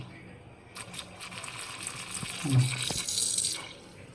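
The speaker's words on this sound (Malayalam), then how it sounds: "നല്ലവണ്ണം ഇപ്പം വെള്ളം വലിച്ച് കയറ്റുന്നുണ്ട്" Water gushing and splashing through a hose as a solar-powered pump draws it from an aquarium left uncleaned for a year, a steady running flow with gurgles, close by.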